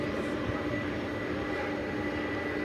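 An American Airlines jet taking off from runway 18 Left at Dallas Fort Worth Airport at night, a steady broad engine roar heard from a distance for a few seconds.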